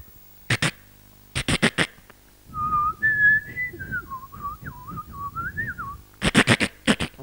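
A person whistles an imitation of a white-rumped shama's song, a loud run of warbling, gliding notes near the middle of the clip, set between loud percussive bursts at the start and end.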